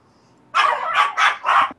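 A dog barks in a tabletop role-playing game session, a sudden close burst of three or four sharp, loud barks in quick succession after a moment of quiet.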